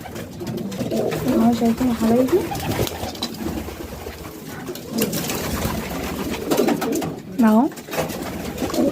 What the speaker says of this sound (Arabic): ودي حمامة